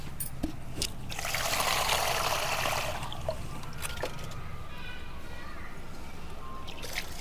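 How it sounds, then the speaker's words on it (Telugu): Water pours onto a potted dragon fruit plant on a terrace garden, a steady splashing trickle lasting a couple of seconds, followed by quieter drips and light handling noises. "మనకి నీళ్ళు వేద్దామండి"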